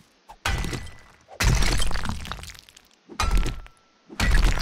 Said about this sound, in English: So hopefully, our iron pickaxe is going to be enough